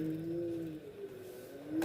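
A scooter motor revs in a steady, whining hum that rises slightly and then settles, heard nearby and fairly quiet, with no clicking and no speech.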